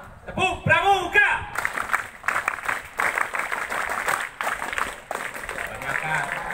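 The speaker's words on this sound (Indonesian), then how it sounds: "Tepuk pramuka." A group of scouts performs a patterned rhythmic clap, bursts of hand claps following a brief spoken call, with voices and crowd noise mixed in at moderate distance.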